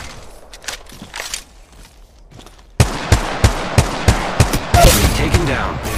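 Rapid, punchy shots ring out in the Apex Legends Mobile battle royale game, starting quietly with faint distant pops before a loud, evenly spaced burst of about seven close shots, with no talk.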